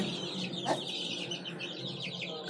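Chickens and hens cluck and call inside a crowded poultry shed, with overlapping clucks and chirps that continue steadily and fairly close throughout.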